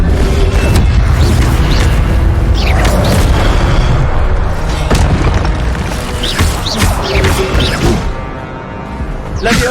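Booming impacts and crashes from spells cast in Hogwarts Legacy on PS5, including the Incendio fire spell, as loud repeated bursts with a voice calling out over the game sounds.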